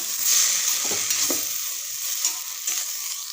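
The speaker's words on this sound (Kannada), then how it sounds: "ಈಗ ರುಚಿಗೆ ತಕ್ಕಷ್ಟು ಉಪ್ಪು ಹಾಕಿ ಎಲ್ಲ ಮಿಕ್ಸ್ ಮಾಡ್ಕೊಳ್ಳೋಣ" Sprouted green gram sambar being stirred in a pan after salt is added, a steady soft scraping and swishing with a faint sizzle underneath, close by and continuous, with no talking.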